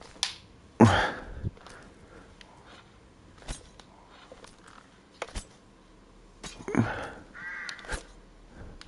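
Crow caws from the video game Resident Evil Village, played in PSVR2: a loud, harsh call near the start, then a second burst of cawing later, with sparse clicks and a few spoken words between.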